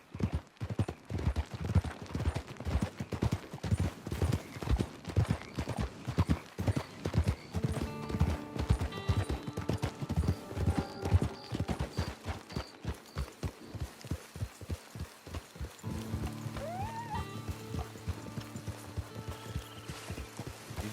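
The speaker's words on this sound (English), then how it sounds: "It's your horse." Horse hooves clip-clop in a steady walking rhythm in the Red Dead Redemption 2 video game, close and clear, then slow and fade under soft ambient game music.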